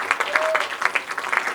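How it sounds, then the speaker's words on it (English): Wedding guests clap for the newlyweds in a short burst of brisk applause, with a voice briefly audible over it. "give them a round of applause. Mr. and Mrs. Van Dope."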